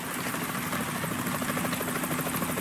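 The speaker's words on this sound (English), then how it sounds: "Is that a chopper I just heard?" Rotor thrum of a helicopter in Metal Gear Solid 2, a steady, dense chopping roar that holds at an even level throughout with no voices over it.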